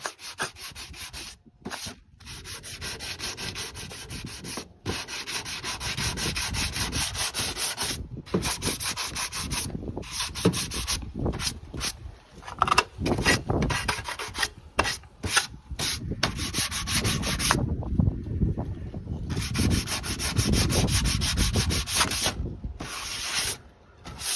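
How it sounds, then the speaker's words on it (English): Fine sandpaper rubs back and forth over an aluminum gutter in a repair, a close, steady rasping scrub broken by brief pauses between strokes. "So now I have my finer sandpaper."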